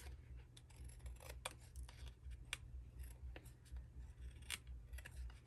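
Scissors trim a sheet of paper with a run of light, irregular snips and crisp cutting sounds over a low steady hum, with no talking.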